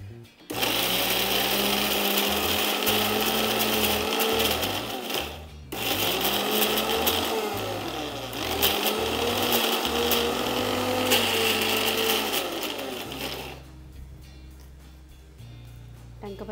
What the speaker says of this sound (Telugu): కొంచెం మిక్సీ తిరగడానికి కాసిన నీళ్ళు